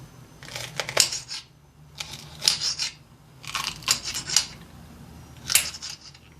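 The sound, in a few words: chopping green peppers for an omelette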